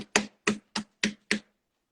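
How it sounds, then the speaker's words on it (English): Five sharp hand claps or slaps spaced evenly about a third of a second apart, close and dry, with silence after; a lone person giving themselves a brief round of applause. "I'm going to give myself a round of applause."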